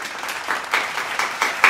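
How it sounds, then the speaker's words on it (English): Applause from dancers after a festive holiday dance class, a few sparse bursts of clapping rising and falling in quick succession, fairly close and moderately loud, with no talking. "Give yourself yet another round of applause."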